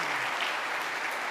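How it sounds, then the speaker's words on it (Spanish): A short, dense burst of audience applause at a Catholic apologetics talk given by a priest, loud and continuous for just over a second. "¡Un aplauso, entonces!"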